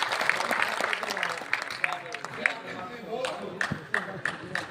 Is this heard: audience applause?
yes